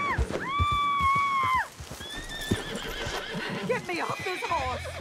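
A horse whinnies loudly and clearly in Red Dead Redemption 2, followed by snorting and hoof clatter with more whinnying sounds continuing.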